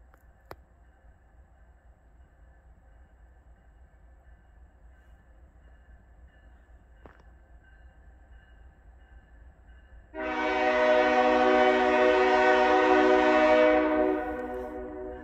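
CN westbound freight train on the Barren Sub Main near West Ladysmith, locomotive running hood forward: a distant low rumble, then a loud sustained multi-tone horn blast lasting several seconds before cutting off.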